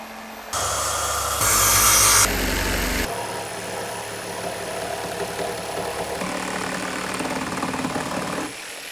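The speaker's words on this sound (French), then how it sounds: "Scie maintenant les planches qui dépassent et fais de la place." A power saw cuts through protruding wooden boards on a suspended treehouse build, a loud buzzing motor roar that starts abruptly, surges harder mid-cut, then settles into a steady whine before stopping.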